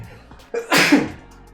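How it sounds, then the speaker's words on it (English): A single sharp sneeze bursts out close to the microphone, a quick intake followed by an explosive release, then quiet. "I'm going to go sneeze for a second"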